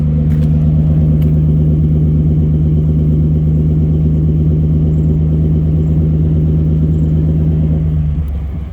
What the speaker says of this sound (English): I don't hear any cylinders dropped out, and actually I don't even hear it doing its little putt-putt thing that it normally does at idle